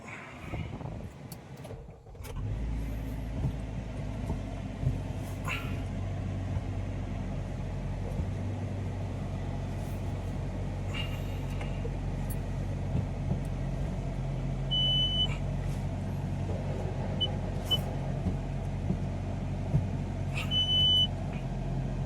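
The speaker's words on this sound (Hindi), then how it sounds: "तो गाड़ी हो चुकी है रवाना" Car interior while driving to the office, with a steady low engine and road rumble continuing throughout after a brief quiet start, plus occasional faint beeps.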